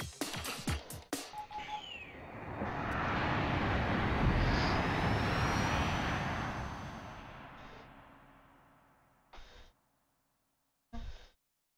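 A stealth jet's engine in the Dreamcast flight game AirForce Delta swells into a loud, broad roar, holds for several seconds, then fades away, with a few sharp clicks before it and brief blips after.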